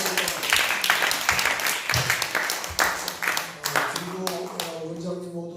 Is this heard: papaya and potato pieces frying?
no